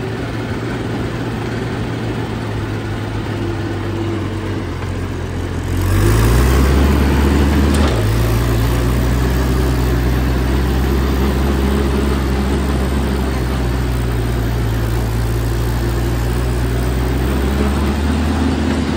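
Allis Chalmers D19 tractor with about 3,600 hours running in fourth gear: a loud, close, low diesel drone that surges up a few seconds in, then holds at a steady heavy roar with no talk.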